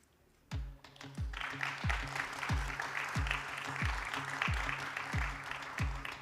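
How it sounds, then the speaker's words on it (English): Audience applause at a gastronomy tourism forum, heard as a soft, steady patter of clapping from a room, with regular low thumps running underneath. "Please give a round of applause for our speakers, Mr. Shogo Arai,"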